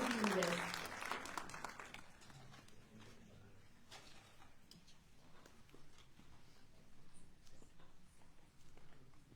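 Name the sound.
audience applause for dignitaries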